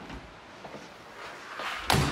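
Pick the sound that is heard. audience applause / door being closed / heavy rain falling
door being closed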